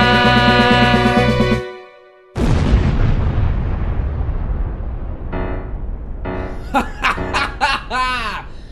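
Cannon fire and explosions in a stage musical: a sustained musical chord cuts off, then a loud blast erupts and rumbles down over several seconds, followed by sharp crackling bursts and scattered pops that sound close and heavy.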